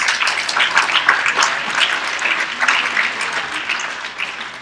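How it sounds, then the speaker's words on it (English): A convention audience at the WJEF 17 Thursday afternoon session applauds steadily throughout, a dense, sustained patter of many hands clapping at moderate loudness with slight swells and no speech. "we can give them a round of applause"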